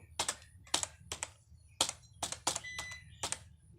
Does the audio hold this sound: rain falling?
no